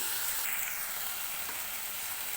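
Boiled cauliflower goes into masala in hot oil for a cauliflower and pea curry, making a steady, close sizzling hiss that carries on with no talking.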